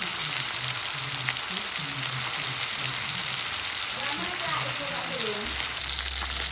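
Mushrooms sautéing in a pan make a constant close sizzle and hiss, with occasional stirring and a faint voice in the background.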